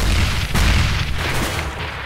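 A grenade detonating in the video game CS:GO, a loud, deep boom landing early and rumbling on, followed by a second softer blast, with heavy low-end weight and no talking.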